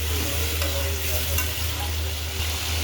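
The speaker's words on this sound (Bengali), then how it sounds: "এই তো এখানে আমি এখন ভুঁড়িগুলা ঢেলে দিব। ভালোভাবে এটাকে এখন কষিয়ে নেব।" Goat tripe being stir-fried with ground spices and chili powder in a pan, a dense close hiss of frying with faint stirring, steady and loud throughout.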